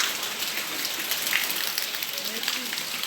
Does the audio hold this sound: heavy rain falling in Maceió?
yes